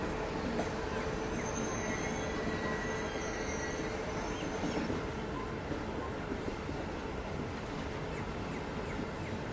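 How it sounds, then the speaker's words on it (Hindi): A train on the Mumbai–Igatpuri line approaches a ghat section, its wagons rumbling steadily and loud up close with a faint wheel squeal above. The run builds in speed, then eases off. "गाड़ी एक बार पूरी एक्सेलरेट की और फिर से धीमी हुई"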